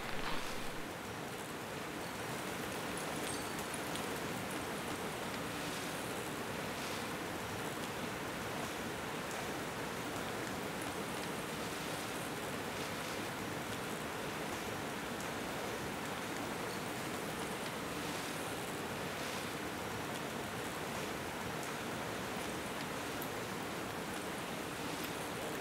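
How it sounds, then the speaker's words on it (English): The upper falls at Johnston Canyon in Banff in winter produce a constant, even rushing roar of falling water that fills the whole stretch without breaks or voices. "This is what it looks like as you approach the base of the upper falls."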